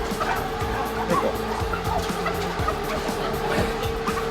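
A farm turkey gobbling close by amid steady outdoor noise, with faint calls from other fowl in the background.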